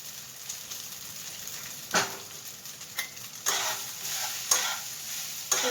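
Cooled cooked rice is stirred into a hot frying pan for fried rice. A soft sizzle runs underneath, and sharp spatula scrapes and stirs come at irregular intervals, up close and with no voices.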